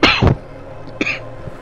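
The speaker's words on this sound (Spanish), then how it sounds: "me ha entrado la tos" A couple of sharp coughs up close, followed by a softer throat-clearing sound and a faint trailing cough.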